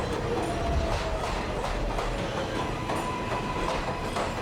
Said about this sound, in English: We hop on the 7 train.